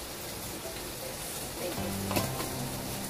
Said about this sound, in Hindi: थोड़ा सा हल्का सा फ्राई करते हैं, हल्के से ब्राउन करते हैं